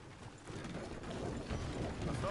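Horse hooves clopping in the video game Red Dead Redemption 2, a steady muffled patter of hoofbeats under a dense wash of game ambience and a faint creak.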